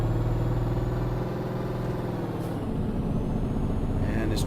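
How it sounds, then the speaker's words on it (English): A heavy truck engine in the Euro Truck Simulator driving game drones loudly and steadily, its pitch shifting midway as another truck comes up from behind, with a sharp air-brake hiss near the end. "And this truck wants to get around me."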